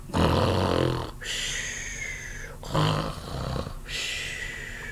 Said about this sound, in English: soon the giant began to snore